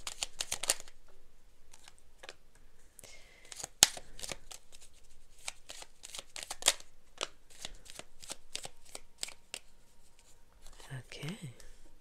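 Oracle cards being shuffled by hand, a steady run of crisp riffling clicks and flutters at close range, with quiet gaps between bursts and faint rustling near the end.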